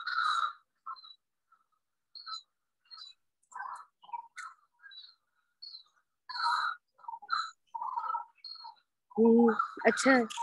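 A bird near a banyan tree gives short, sweet calls in scattered bursts with quiet gaps between them, close and clear in an otherwise still setting; someone speaks briefly near the end.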